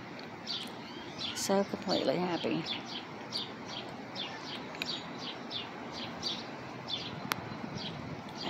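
Birds singing in a backyard garden, with repeated bright chirps and tweets recurring steadily throughout, a dove-like coo possible, while a person speaks briefly near the start.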